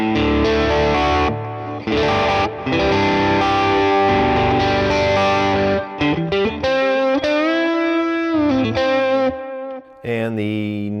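A distorted electric guitar on its middle pickup plays loud, close chords and sustained notes, then moves into bending single-note lines with brief gaps between phrases.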